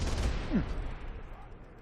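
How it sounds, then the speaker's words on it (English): A Class 4 weapon on the Warden in the Vanguard video game fires a loud, dense burst that quickly fades into a decaying rumble. "as I'm shooting the Class 4 weapon"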